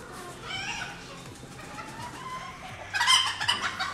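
An old gamecock in a breeding pen at a fighting-cock farm clucks softly and crows. Other fowl join in, with a louder flurry of calls near the end.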